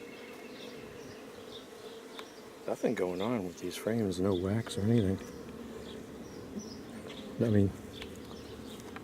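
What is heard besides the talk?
honey bees buzzing during hive inspection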